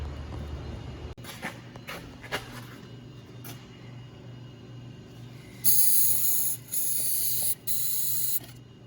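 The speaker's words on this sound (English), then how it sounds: "I like to soak it down with silicone spray." A few short clicks and taps, then three long hissing bursts from a silicone spray can onto a speed sensor connector of a 2013 Dodge Journey, close and steady, with brief pauses between them.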